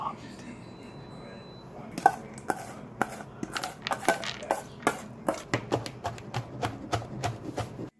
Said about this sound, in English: 1/3 pine nuts chopped.